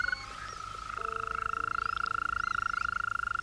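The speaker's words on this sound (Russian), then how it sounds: "Только ночью и звучит в полную силу свадебный зов зеленой жабы." A continuous, steady trilling mating call from a single green toad, loud and close, a sustained high buzzy trill holding without pause against a quiet night background.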